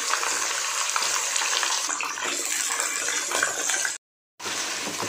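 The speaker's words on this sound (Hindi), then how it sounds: "इसमें अब गोश्त डाल दें" Mutton fries with oil, ghee and golden-brown onions in a pot over high flame, a dense, loud crackling sizzle that runs continuously, cutting out briefly near the end before resuming.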